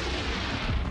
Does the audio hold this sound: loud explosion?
yes